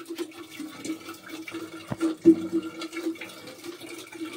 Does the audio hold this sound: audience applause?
no